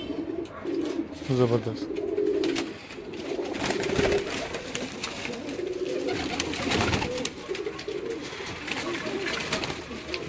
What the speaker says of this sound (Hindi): ये भी टेडी कबूतर है चौधरी साहब के घर के।